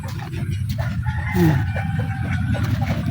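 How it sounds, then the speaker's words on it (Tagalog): A chicken clucks and crows nearby over a busy, rumbling background, with a short higher call about midway. "May manok doon."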